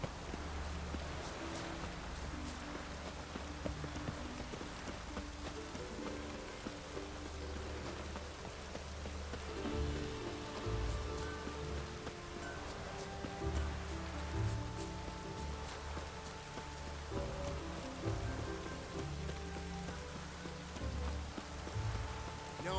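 Steady rain falls in The Witcher 3 video game, a dense, even hiss that holds for the whole stretch with no voices over it.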